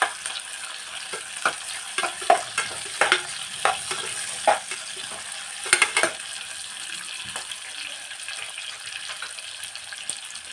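Green chillies and fenugreek leaves frying in oil for mutton vegetable keema, steady soft sizzle with irregular scraping stirs and clinks of a spoon in the pan, no talking.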